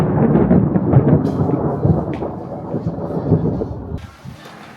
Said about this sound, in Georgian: წვიმა მოვიტანეთ უზბეკეთში